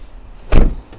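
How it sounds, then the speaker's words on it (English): Sliding side door on the passenger side of a used Volkswagen Transporter Kombi van, a single loud sliding clunk that rises and fades within half a second, heard close up with no talking. "So you've got your sliding door on the passenger side"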